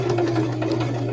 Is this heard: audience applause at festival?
no